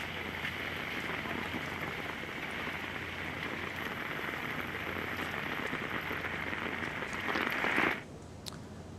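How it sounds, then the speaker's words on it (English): Heavy rain pours across flooded streets in the Netherlands as a dense, steady hiss of drops hitting water and surfaces, then cuts off abruptly near the end. "Heavy rains flooded parts of the Netherlands as well, swamping streets and buildings"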